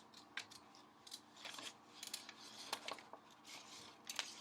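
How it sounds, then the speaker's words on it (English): Scissors snip through brown paper in a quick series of crisp, close, quiet cuts with short pauses between strokes, with no talking. "I'm going to cut out a couple things out of my brown paper"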